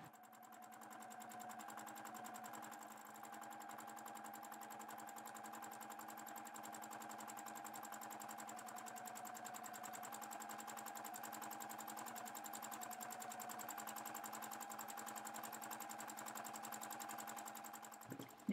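Sewing machine running steadily for free-motion meander stitching with variegated thread, a continuous close mechanical whir with fast even needle rhythm, sustained without pause until a brief knock at the end.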